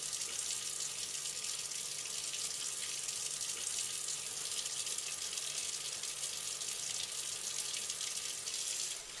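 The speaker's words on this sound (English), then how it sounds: "The hands are rinsed with the water running from the fingers to the elbow" Water runs steadily from a tap while hands are rinsed during scrubbing for dental surgery, a continuous close splashing hiss that stays even throughout and eases slightly at the very end.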